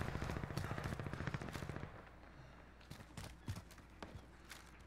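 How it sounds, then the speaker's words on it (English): Gunfire in Call of Duty Warzone: a fast burst of automatic fire opens the moment, followed by scattered single shots and pops at a moderate distance. "It's a whole different team shooting them too."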